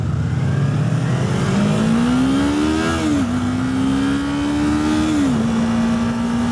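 A 2018 Yamaha R3 motorcycle engine revs steadily while riding, its pitch climbing through the gears with two brief dips at shifts, loud and close over constant wind rush.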